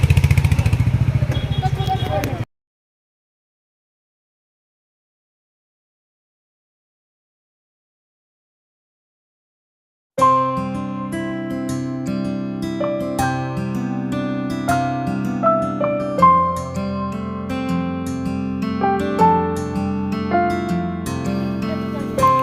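A motorcycle ride in the Darjeeling hills opens with a burst of engine and wind noise, then falls silent for several seconds before a steady mechanical drone with tonal layers returns and continues.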